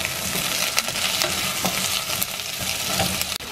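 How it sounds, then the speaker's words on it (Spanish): Peanuts and sesame seeds stirred into softened onion in a frying pan, a steady close sizzle broken by repeated spoon scrapes and stirring strokes, with no voices. "ahora le ponemos el cacahuate y la ajonjolí y seguimos meneándolo"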